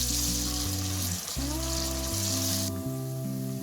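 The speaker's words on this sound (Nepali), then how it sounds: "अब यसमा लसुन र अदुवाको पेस्ट हाल्छु र यसलाई चलाएर 2 मिनेट जति पकाउँछौँ।" Garlic ginger paste frying in oil with browned onions gives a steady, close sizzle and hiss, with stacked tones of background music throughout; the sizzle fades near the end.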